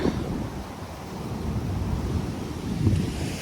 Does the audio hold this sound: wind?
yes